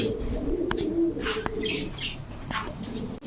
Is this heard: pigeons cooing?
yes